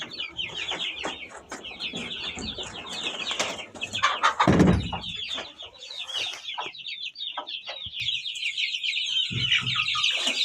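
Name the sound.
chickens and hatched chicks clucking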